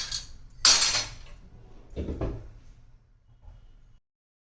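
Milk sweet poured into a ghee-greased plate and weighted down, giving a sharp metallic clink followed by softer knocks and scrapes of metal dishware, close and otherwise quiet.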